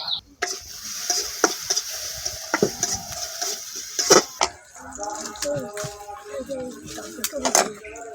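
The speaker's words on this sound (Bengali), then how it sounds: "এখন আমরা তরকারি রান্না করব পেঁয়াজ হলুদ মরিচ লবণ আদা বাটা জিরা বাটা রসুন বাটা সব রকমের মশলা পরিমাণ মতো মাছের মধ্যে দিয়ে দেব" Fish curry with onion, turmeric, chili, salt, ginger, cumin and garlic paste cooking in a pan over a village fire, with a close sizzle and repeated scraping, clattering stirring strokes; a voice talks briefly at times.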